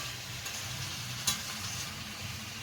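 Mutton curry with ground chili paste sizzles steadily in a pan as it is stirred, a constant close frying hiss with a spoon scraping through it and one sharper clink midway.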